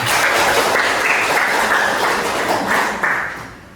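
A classroom of students claps for a classmate during a junior high mathematics lesson, a dense, steady burst of many hands close by that holds for several seconds and then fades away.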